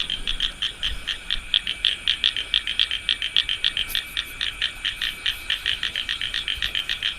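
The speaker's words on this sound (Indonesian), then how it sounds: "Itu ada katak" A frog croaks during rain in a rapid, even series of bright pulses, close and loud, repeating steadily throughout with no talking.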